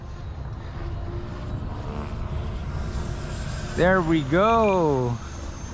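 A 6S-powered Eflite F-16 Thunderbird RC jet makes a full-throttle fast pass at an airfield, with a steady rushing roar that fills the whole stretch. A person speaks briefly near the end.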